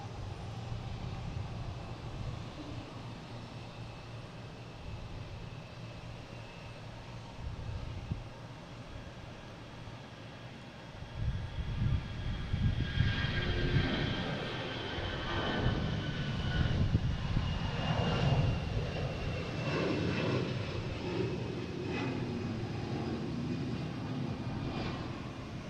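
A Delta Airbus A319 airliner bound for Nashville takes off from Boston Logan, its jet engines a distant, steady roar that swells and grows rougher midway before holding at a sustained rumble.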